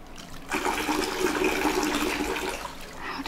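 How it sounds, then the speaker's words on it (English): Water pours and splashes close by as soap is rinsed off during a bath, a steady gushing wash that swells in after a brief quiet moment and runs on without speech. "Let me just go ahead and rinse that off."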